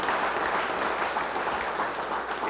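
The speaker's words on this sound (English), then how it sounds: "A round of applause if you don't mind." Banquet audience applauding students and teachers, steady dense clapping from a large crowd throughout, even and sustained with no speech over it.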